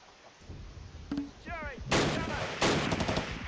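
Mortar fire sounds in the WWII video game Close Combat: Last Stand Arnhem. Several sharp game blasts and bursts follow one another over a few seconds, mixed with short whistling effects at moderate volume.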